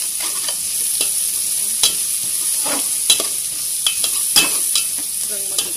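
Food fries in a pan with a steady close sizzle, broken by repeated sharp scraping and stirring strokes every second or so while it browns.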